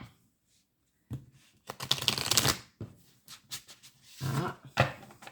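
A deck of cards is cut and shuffled up close in several quick riffling bursts separated by short pauses, with no voices.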